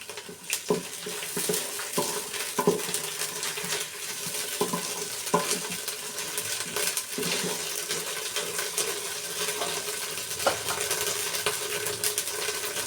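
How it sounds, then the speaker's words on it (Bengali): Pulao rice is fried in spices in a pot with a low sizzle, and a utensil scrapes and clinks against the metal in repeated stirring strokes. The sound is close and steady throughout, with no voices. "এখন এই মশলাতে আমি পোলার চালটা চার থেকে পাঁচ মিনিট ভেজে নেব"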